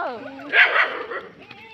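A voice speaks briefly, then a single sharp dog bark rises up close, followed by a softer whimpering yip.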